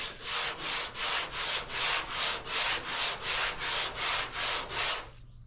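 Even, regular back-and-forth strokes of sandpaper over black epoxy primer, about a dozen close scratchy passes at a steady pace before stopping abruptly.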